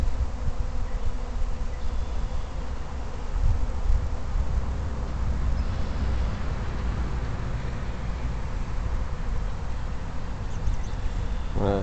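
A honey bee swarm buzzes steadily around a branch near a hive, a dense continuous drone of many wings holding at an even level throughout, close and unbroken.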